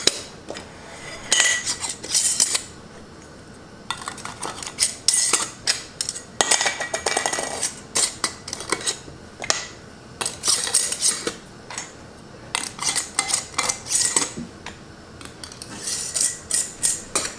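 Metal lids and screw bands for pressure canning beef stroganoff are set onto glass jars, producing bright clinks, taps and scrapes in irregular bursts, close up, with quiet pauses between.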